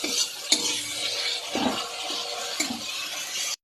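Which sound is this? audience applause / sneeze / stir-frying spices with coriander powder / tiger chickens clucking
stir-frying spices with coriander powder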